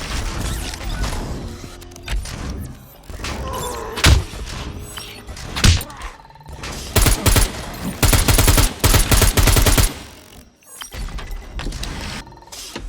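Rapid bursts of gunfire from a sentry being shot in Scum 0.85, loud and repeated in clusters with thuds and mechanical clanks between volleys, no talk.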